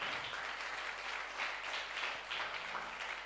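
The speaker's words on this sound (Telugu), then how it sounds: "చప్పట్లు కొట్టి దేవుని మహిమ పరుద్దాం." A church congregation claps together in praise, a continuous mid-distance patter of many hands with slight swells, heard alone without speech.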